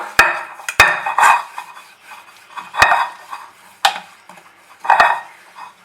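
An aluminium bowl is rubbed with a few drops of oil for a chicken keema cake, giving a string of sharp metallic clinks and scrapes with softer rubbing between them, close by and fairly loud.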